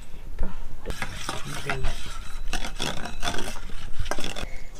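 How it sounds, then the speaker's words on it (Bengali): Warm Amul milk stirred in a bowl, close-up scraping and clinking strokes of a spoon against the sides in an irregular rhythm, with faint liquid sloshing between strokes. "দুধটাকে ভালো করে গুলিয়ে নিলাম"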